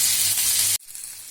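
Rohu fish frying in a pan gives a steady, loud broadband sizzle that cuts off abruptly partway through, leaving a quieter, thinner crackle.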